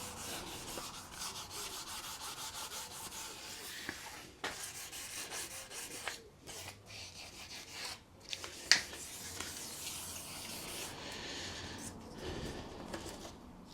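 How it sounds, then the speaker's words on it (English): Motorcycle paintwork on an MZ TS250/1 Supa Five being hand-rubbed with 2000 grit wet and dry sandpaper, a continuous soft back-and-forth scuffing at close range with a few brief knocks. "So I've just got some 2000 wet and dry. Just give it a little rub over with that."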